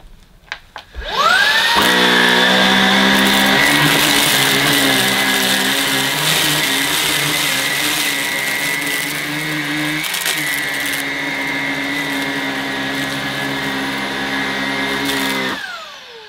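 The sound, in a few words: Halo Capsule bagged cordless vacuum cleaner on carpet, medium setting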